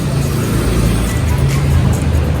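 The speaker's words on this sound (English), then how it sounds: "Oh, the fabulous antique car." An antique MG car passes close by on a city street in Athens, a loud steady engine drone with low rumble throughout the short moment.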